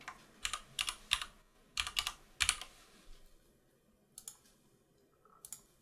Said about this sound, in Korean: 여기에 제가 텍스트를 하나 입력을 할게요